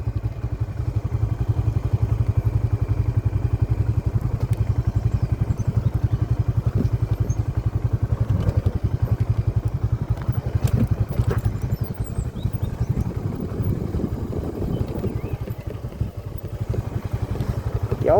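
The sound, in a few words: motorcycle engine running on a hill road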